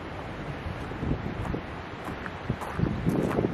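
Strong wind gusting across the microphone at the Port Chalmers cemetery in Dunedin, a steady broadband roar with louder buffeting surges, no voices.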